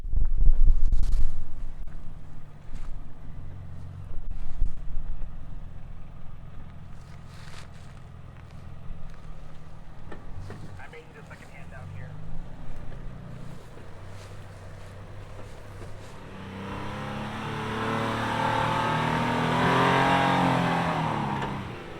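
A 2025 Nissan Armada Pro-4x SUV drives off-road, its engine rumbling low and fluctuating under throttle, close by, swelling into a rough broadband roar of tires and wind toward the end.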